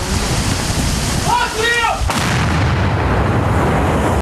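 An Armata tank firing during fighting near Urozhaine, a loud, dense roar of blast and rumble with one sharp crack partway through, heavy and continuous throughout.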